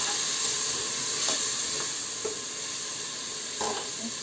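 Onion paste frying in a pot for Moroccan harira soup, a steady hiss and sizzle with a few soft scrapes of stirring, close and continuous without speech.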